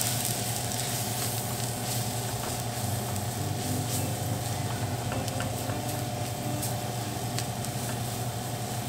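Onions and flour sizzle steadily in a cast iron skillet, a dense continuous frying hiss with faint crackles, close and even throughout with no talking.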